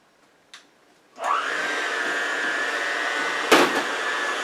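An electric mixer starts up and whirs steadily, beating hot boiled liquid into the flour mixture for Texas sheet cake batter, its loud close motor hum broken by a brief clatter against the bowl.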